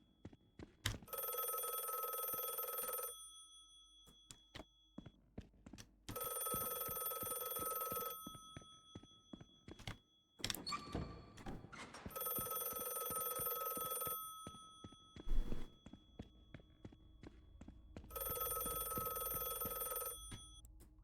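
A telephone bell rings repeatedly in a quiet room, four long bursts at regular intervals with soft thuds and movement between the rings.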